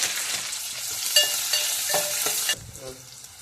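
Onions and shahjeera fry in oil for a mutton curry, a close sizzle with several clear stirring scrapes, breaking off abruptly near the end to a softer hiss, with no voices.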